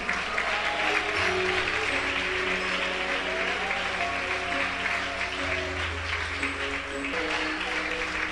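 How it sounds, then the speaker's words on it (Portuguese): A church congregation applauds during a sermon about Samuel by a pastor. The clapping is loud and sustained for several seconds, with sustained musical tones running underneath. "Quer aplaudir a Jesus?"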